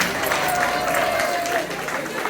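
Parents applauding and cheering at a school report-card ceremony in a bilingual school, a dense continuous wash of clapping and crowd noise that holds steady, then eases slightly near the end.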